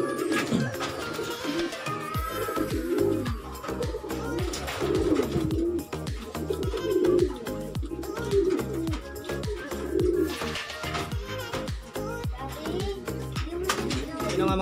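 Pigeons coo repeatedly inside a loft, their low rhythmic calls close and continuous, with occasional wing or movement noises and no clear talk.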